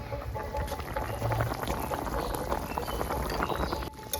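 Bengali-style chicken stew bubbling in a pot as a spoon of cornflour is stirred in, a continuous close simmering and liquid stir sound with soft clinks, steady and moderately loud.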